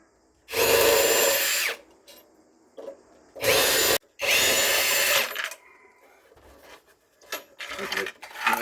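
Power drill running at full speed during restoration of a 100-year-old banjo mandolin, three loud whirring bursts of about a second each, followed by quieter clicks and handling noises.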